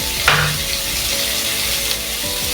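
Kohlrabi frying in hot oil with turmeric and salt for a chicken curry, giving a steady close sizzle with a few stirring scrapes and clinks, no voices.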